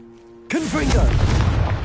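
A Confringo fire blast spell explodes in Hogwarts Legacy, a sudden loud boom that breaks in after a quiet start and rolls on as a dense rumble, with a voice sounding over the blast.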